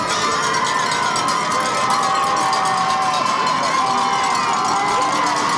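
Eagles fans cheer in the stands at a high school football game between Southlake Christian and Davidson Day, a loud, sustained crowd roar with scattered shouts that holds steady throughout.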